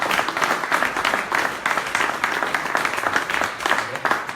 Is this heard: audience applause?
yes